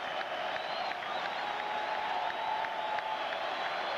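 Mets fans in a packed stadium crowd at a 1998 Yankees–Mets baseball game cheer with a sustained, distant roar and scattered applause, steady throughout with no clear peaks.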